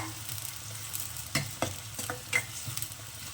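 Onion frying in a pan for a Chettinad crab gravy, a soft sizzle broken by scraping stirs and light clinks of the spoon, close and fairly quiet, with no talking.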